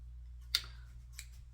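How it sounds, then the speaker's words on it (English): Two quick snips of scissors cutting synthetic crochet hair, about two-thirds of a second apart, crisp but faint over a low steady background hum. "I cut that one so it can be a little bit short"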